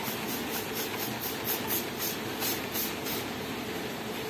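A refilled Canon IP2770 printer with an ink infusion system runs a spray test, giving a steady mechanical whirring with a faint rapid ticking pulse that continues evenly and close by, with no talk.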